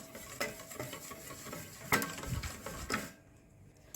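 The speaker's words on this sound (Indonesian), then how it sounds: "kemudian diaduk" Flour, baking powder and baking soda are stirred in a bowl for a steamed palm-sugar sponge cake: soft scraping strokes with a few louder clinks of utensil against the bowl, close and quiet, ending in near silence.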